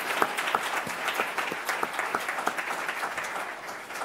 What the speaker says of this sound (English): Let's give our principals a round of applause